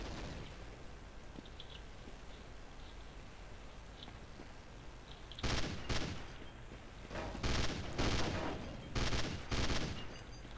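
A burst-fire weapon in Counter-Strike Nexon: Zombies fires several quick, loud volleys in the second half, each a short clustered rattle, after a quieter stretch of low background game noise.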